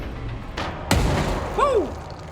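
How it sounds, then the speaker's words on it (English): A grenade goes off in the video game Control: one sharp, loud boom lands close, with a softer thump just before it and a short whooshing sweep after. "That's a grenade! That's a grenade!"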